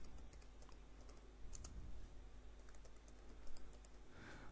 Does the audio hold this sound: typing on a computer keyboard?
yes